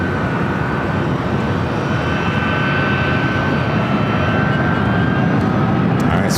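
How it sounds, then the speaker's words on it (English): A British Airways Speedbird jet rolls for takeoff on runway 24L at Los Angeles airport, its engines a steady, loud, broadband roar with a thin whine held throughout. "Speedbird now rolling down to 24 left"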